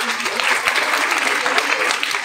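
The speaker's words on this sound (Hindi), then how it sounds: "जो बीच में बैठे हैं वो तालियां कम बजा रहे हैं" An audience of children claps at a school event, a dense, loud burst of applause that holds steadily for the whole stretch.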